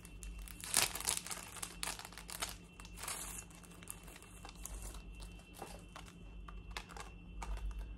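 Packaging crinkles and rustles as a parcel is opened, in quick irregular bursts of close crackling and tearing-like scrapes, with one louder crunch near the start.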